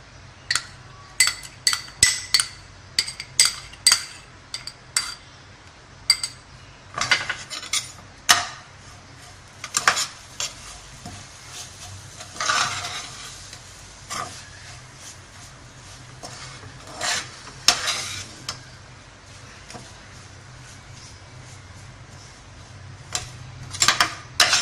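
A utensil stirs and scrapes grated coconut roasting in a pan for burfi, giving sharp metallic clinks and taps in irregular bursts, near and fairly loud over a quiet background, with no talking.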